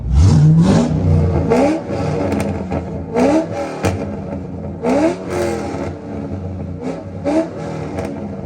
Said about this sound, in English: I'm gonna park with the back end facing this wall so you could hear some more revs.